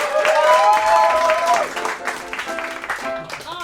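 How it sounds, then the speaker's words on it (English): Theater audience applause at a Disney-themed music show: clapping and cheering from a crowd, loud at first over a sustained tonal musical sound, then thinning toward scattered claps. "Let's give them a round of applause."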